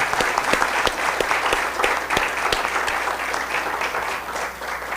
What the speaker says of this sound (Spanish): les pido un aplauso grande para ellos